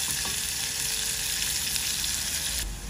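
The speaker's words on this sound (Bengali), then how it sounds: "এই যে আমাদের পেঁয়াজ ভাজি হয়ে গেছে" Onion and garlic fry in a pan with a steady, close, dense sizzle that holds level throughout, with no talk over it.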